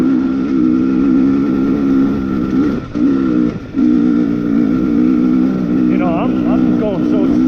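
2020 KTM XC250 TPI two-stroke dirt bike ridden slowly, its engine a steady close low drone with brief dips off the throttle, while a rider's voice talks over it near the end.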